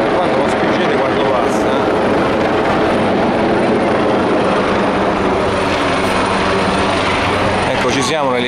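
Helicopter hovering directly above Via Nazionale in Rome during an armed motorcade escort, a loud, steady rotor and engine roar filling the scene throughout, with a brief rhythmic rotor flutter near the end.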